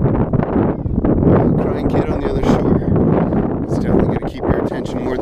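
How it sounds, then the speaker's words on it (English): Outdoor wind buffets the microphone during a walk with two dogs, a loud continuous low rumble with gusts, mixed with a voice talking. "This wind is probably killing the video anyhow."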